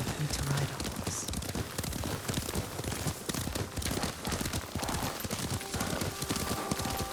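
Horse hooves clip-clopping at a steady riding pace in the video game Ghost of Tsushima, continuous and fairly close throughout, with faint voices and game ambience underneath.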